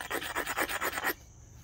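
Abrasive grinding of a chert flake's edge against a rock with soft spots, a rapid series of about ten raspy rubbing strokes close up, stopping abruptly near the end.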